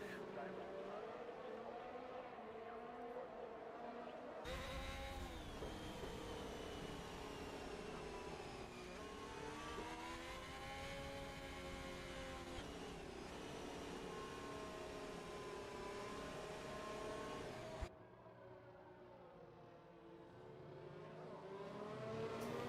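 Race cars in the F1 2021 video game run behind the Aston Martin safety car, a sustained loud engine drone with rising and falling pitch that cuts off abruptly near the end and then returns more quietly.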